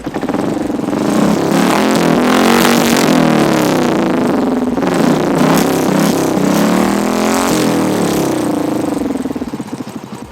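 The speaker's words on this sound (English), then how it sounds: "So now let's go to the Dolphin exhaust and see how it looks and how it sounds." A motorcycle fitted with a large Dolphin aftermarket exhaust is revved hard several times, loud and close, the engine note climbing and falling in repeated sweeps before settling back to idle.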